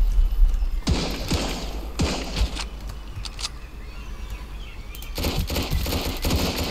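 Machine gun fire in the survival shooter Sunkenland, rattling in bursts of sharp, closely spaced shots with thuds, a few volleys around the start and a denser burst near the end.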